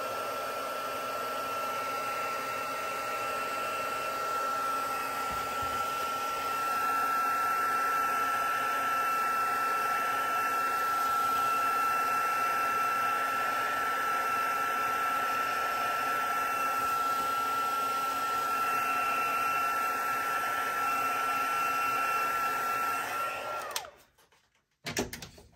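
Heat tool drying damp ink on a stamped image before embossing powder goes on, blowing as a steady, loud continuous whoosh with a faint whine for about 24 seconds, then switching off and leaving brief handling noise.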